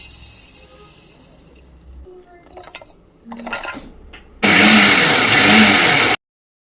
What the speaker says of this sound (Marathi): तीळ आणि शेंगदाण्याला मिक्सरच्या जारमध्ये घालून पल्सवरती 2 ते 3 वेळा फक्त फिरवून घेतलं